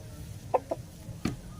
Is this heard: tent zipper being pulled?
no